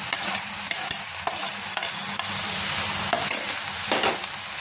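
Fried vegetables and cooked rice stir-fried together for fried rice, quick scraping spatula strokes and clinks over a low steady sizzle, close and fairly quiet.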